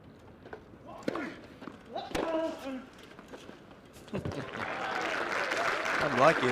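Ball strikes and court footsteps at a wheelchair tennis match in the British Open Wheelchair Championships give way to crowd applause that swells and holds through the final seconds, with commentary voices in the background.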